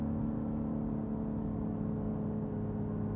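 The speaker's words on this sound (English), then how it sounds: "the car is really loud. So, you know, I have to short shift it because I can't talk over the engine." A Porsche GT3 RS engine drones steadily from inside the cabin while driving, a low, even hum with a faint whir and no revving peaks, heard alone.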